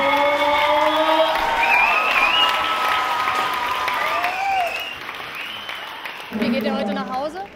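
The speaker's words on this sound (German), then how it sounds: "die waren voll am Klatschen und so alles" Students applaud and cheer loudly after a school performance, a dense wash of clapping with whoops and shouts rising over it, thinning toward the end as voices take over.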